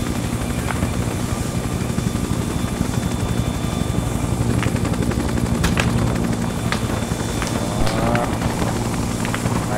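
A Huey helicopter in the military video game Arma 3 drones steadily with a loud, continuous rotor and engine roar, with scattered faint gunfire cracks mixed into the din.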